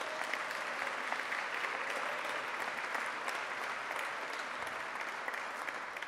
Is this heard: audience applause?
yes